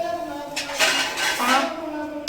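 Metal lid set onto a Pongal cooking pot, giving a couple of bright clanking rattles of metal on metal, close and clear over a faint background hum.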